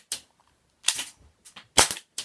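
A budget BB gas revolver is fired into a box, giving several sharp, snappy pops spaced unevenly over a couple of seconds, close and fairly loud with nothing else heard.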